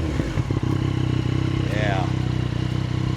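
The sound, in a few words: 2019 Yamaha Tracer 900 GT motorcycle engine revving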